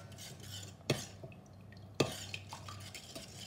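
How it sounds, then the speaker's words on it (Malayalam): Rice flour being stirred by hand into second-press coconut milk for pal kurukku, a quiet scraping swirl with two sharp utensil knocks against the vessel, no talking. "നന്നായി ഇളക്കുക."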